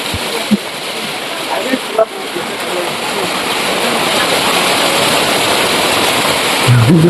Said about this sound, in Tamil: டிஆர்எஃப் மழை வேற வர ஆரம்பிச்சிருச்சு.